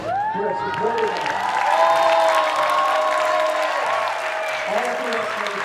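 Loud, dense applause and cheering fill a crowd at an 8th grade moving-on ceremony, with whoops and excited voices rising over the clapping and holding steady for several seconds.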